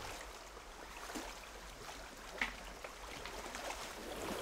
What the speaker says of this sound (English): When two streams join together like this, it's called the confluence.